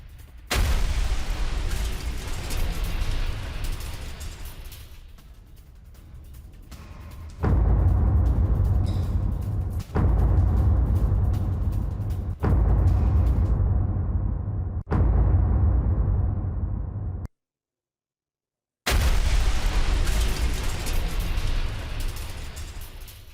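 Explosions from a Russian Iskander missile strike on Kharkiv: loud, booming blasts follow one another, several heavy thuds with rumbling tails, one brief silent gap, then another sustained roar of blast noise.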